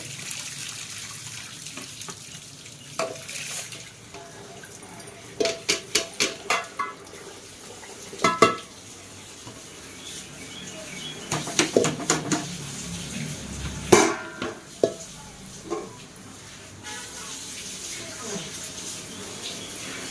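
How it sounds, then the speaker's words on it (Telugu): Water is poured off from a cooking pot during Sunday biryani preparation, with intermittent splashing and trickling mixed with clinks of pots and utensils, loud bursts coming and going over a low background. "దీంట్లో ఉన్నాయి వాటర్ అంతా ఇలాగా వంపేసుకున్నామండి"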